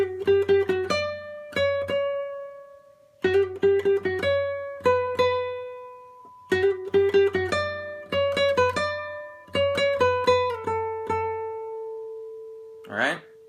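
A plucked guitar melody in short phrases separated by pauses, single notes ringing clearly and close, with a brief bright ring at the end.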